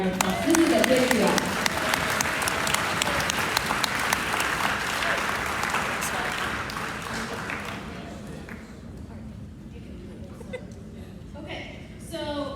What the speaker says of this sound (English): can we give Mrs. Bonner a round of applause?